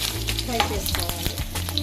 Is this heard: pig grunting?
no